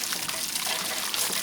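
Water gushes steadily into the tank of a Dometic SW10DEM RV water heater, flushing out calcium buildup, a loud close rushing splash with no speech.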